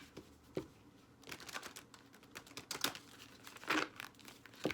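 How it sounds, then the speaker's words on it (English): Tarot cards shuffled by hand in quiet bursts of crisp riffling and papery crinkling, with brief pauses between handfuls, close and moderately soft, no talking. "Let's get a good shuffle going for you"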